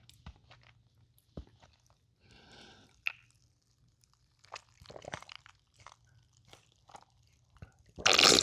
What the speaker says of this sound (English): So all these bottom ones are a bit crunchy.